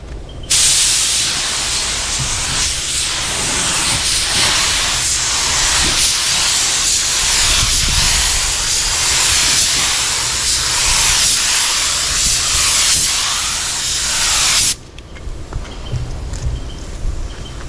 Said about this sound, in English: I'm probably gonna stay back about 10 or so inches and just fog a light coat on it.